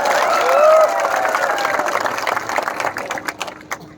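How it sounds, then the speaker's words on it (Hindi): A rally crowd applauds and cheers, loud and dense at first and then thinning into scattered claps over a few seconds, with voices mixed into the noise. "आप अपने आप को भी थोड़ा सा ताली देकर अपने आप को भी क्रेडिट लीजिए"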